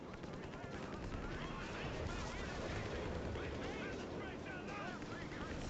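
Dense battle gunfire in Company of Heroes 3: continuous crackling rifle and machine-gun bursts with heavier booms mixed in, a busy wall of combat noise under voices.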